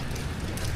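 Rain falling outdoors, a dense, even hiss of drops on surfaces, close and steady across a brief moment with no voices.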